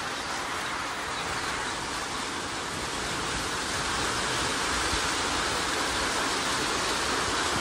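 Heavy rain pours down steadily in a village, a dense, continuous rushing hiss that holds at the same level throughout without pause.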